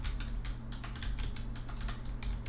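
Quick, light keystrokes clatter on a computer keyboard in an irregular burst, faint and close, with no talking.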